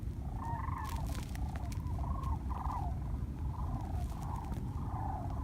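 Cranes flying overhead give a series of rolling, bugling calls repeated in irregular bursts, moderately distant over a steady outdoor rumble near frozen water.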